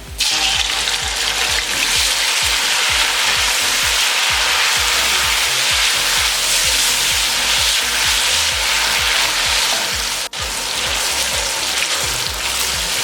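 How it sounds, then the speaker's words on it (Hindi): Tomatoes and green chillies fry in a hot pan with oil, a loud, steady hiss and crackle that holds throughout at close range, with no talking. "अब इसमें टमाटर और हरी मिर्च ऐड करेंगे और 2 से 3 मिनट के लिए इसे भी फ्राई कर लेंगे।"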